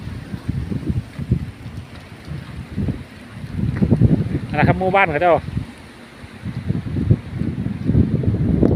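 Dry winter wind in Israel gusts against the microphone in low, rumbling bursts while someone speaks over it almost continuously.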